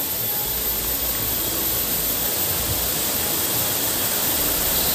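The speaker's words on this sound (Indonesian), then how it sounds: "Kita terdengar suara sungai." A mountain river in the Trenggalek countryside rushes with a dense, steady roar that holds unbroken throughout, loud and near, with no voices.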